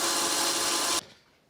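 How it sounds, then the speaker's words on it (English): Small handheld bandsaw cutting a metal gear blank, a steady loud grinding buzz that stops abruptly about a second in, leaving only faint room noise. "I'm just going to come with the bandsaw, my little handheld bandsaw,"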